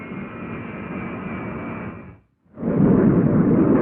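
FJ-2 jet fighter landing on a runway, a loud broadband jet roar that cuts out briefly and then returns louder and closer, with no one talking.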